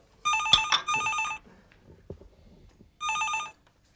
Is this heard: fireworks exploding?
no